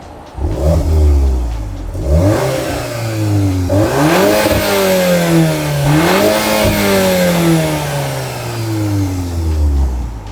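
A Volkswagen Golf R Mk8 engine on its stock exhaust revs up loudly several times, climbing and falling in pitch with a deep, throaty exhaust note, close by and alone.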